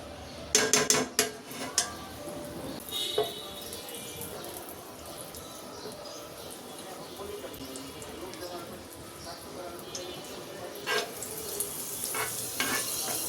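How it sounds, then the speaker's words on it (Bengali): White oil and butter heating in a pan for butter chicken give a steady low sizzle, with a few sharp clanks of a utensil against the pan at the start and again near the end. "আমি আগে একটুখানি সাদা তেল দিয়ে নিচ্ছি, তারপর আমি একটু বাটার দিচ্ছি।"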